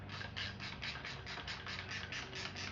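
A Snap-on ratchet tightening a big plastic bolt during a vintage Rock Shox suspension fork rebuild, a rapid run of about a dozen even clicks, close and steady, with no talking.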